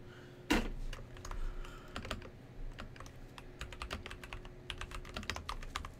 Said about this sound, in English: Damn, I was typing it out.